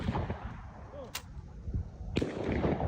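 Two sharp gunshots at an outdoor shooting range, one near the start and another about a second later, each a sudden crack with a brief tail, set against faint background noise and a murmur of voices.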